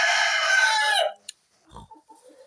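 A five-year-old rooster crows once inside a clean henhouse, a loud, close, drawn-out call that cuts off abruptly, followed by a few faint clucks and rustles.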